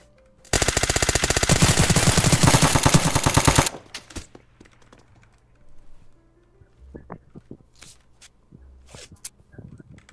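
Rapid automatic gunfire rattles loudly for about three seconds, then stops, leaving quieter scattered clicks, thuds and faint background sounds.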